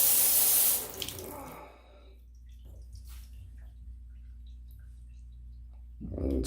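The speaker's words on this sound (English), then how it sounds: "Water's on." Water gushing from a Moen faucet just after a cartridge replacement, a loud close rush for about a second that drops to a softer steady flow with faint clicks, then swells again at the end.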